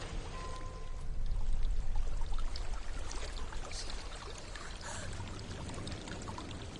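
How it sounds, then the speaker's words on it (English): Waterfall in the video game Hellblade: Senua's Sacrifice, a steady broadband rush of falling water that holds at a constant loud level throughout, with no talk over it. "There's a waterfall."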